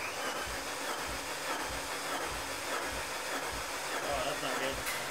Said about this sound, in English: Now we're going to put a compression tester on here and we're going to find out exactly what those numbers are.